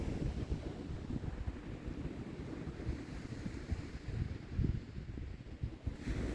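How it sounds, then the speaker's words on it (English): Wind blows hard along the Holderness sea coast in the UK, with rumbling gusts buffeting the microphone over the wash of surf, a continuous roar that swells and dips throughout. "Wind's actually blowing the rods like mad now."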